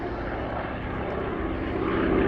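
A Hawker Fury Mk.II propeller fighter flying a display at Sywell Airshow, its piston engine giving a loud continuous throaty drone that swells slightly as it turns overhead.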